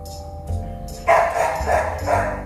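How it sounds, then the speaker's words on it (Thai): A small Chihuahua barks a few short yips close by while someone talks over it in a car with a giraffe-style interior. "ใครเห่าหนูตื่นเลยนี่"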